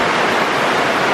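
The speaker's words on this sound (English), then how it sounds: "It's just pouring down." Heavy rain pours down steadily at a building site in Niue, a loud, dense and unbroken hiss of downpour filling the whole moment with no voices.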